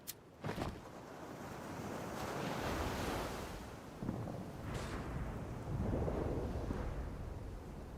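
Waves wash onto a beach in a World War I video game, a continuous rolling surf with swelling rushes and wind-like hiss, steady and fairly full.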